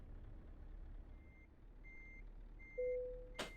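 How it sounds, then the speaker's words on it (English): A heavy-haul truck in Euro Truck Simulator 2 backs up with repeated evenly spaced reversing beeps over a low engine idle, ending with a short sharp hiss of air brakes. "The hardest part was turning the truck and backing it up."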